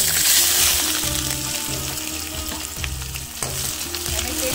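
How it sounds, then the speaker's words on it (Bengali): Chopped onions frying in oil crackle and sizzle loudly up close, with rhythmic stirring scrapes of a spatula against the pan and no voices. "পেঁয়াজ কাটাটা এর ভিতরে দিয়ে দেবো।"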